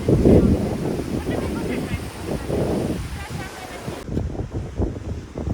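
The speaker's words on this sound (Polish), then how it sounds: "Idziemy nad ocean." Atlantic ocean waves on the rocky coast at Puerto Plata, with steady wind buffeting the microphone and surf rumbling loud and close. Roaring swells early on ease into choppier wash.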